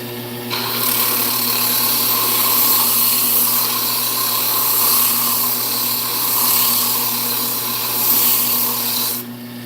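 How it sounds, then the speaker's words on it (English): A woodturning lathe spins while a wooden carving knife is sanded, giving a steady, loud whirring hum with a constant abrasive hiss that starts and stops sharply at either end. "I'm just going to try to sand this down to something."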